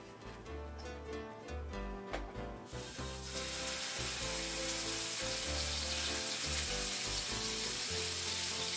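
Ground beef dropped into a hot pan for a baked beef penne casserole, breaking into a loud, steady sizzle that swells after a few seconds and continues close up under faint clinks and background music.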